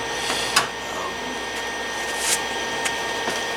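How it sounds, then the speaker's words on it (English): A welder tacks a patch panel into a rusty car rocker, giving a few short, sharp crackling bursts spaced apart over a steady background hiss. "I'm going to start welding it, tacking it in."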